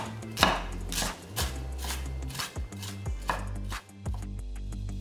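A knife chops a quarter onion into small pieces on a cutting board in a Korean home kitchen, with steady, close, crisp strikes that come in quick clusters and short pauses.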